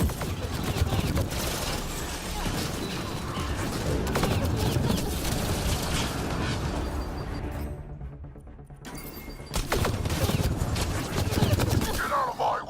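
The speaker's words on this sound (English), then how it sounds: "Shooting as fast as I can!" Rapid, sustained automatic gunfire from a firefight in the sci-fi shooter Mass Effect Andromeda, loud and dense throughout, with a brief lull before the shooting resumes.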